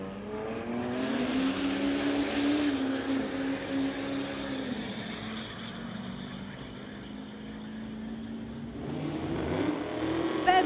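At a drag strip, a 2006 Sierra and a 2008 BMW race, a sustained engine roar that rises and holds at a droning pitch, fading somewhat before surging again near the end.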